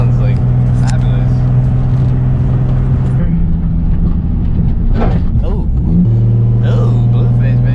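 Nissan G35 with a swapped RB26 engine running loud and close, a steady droning tone shifting pitch as it revs, with a voice talking over it.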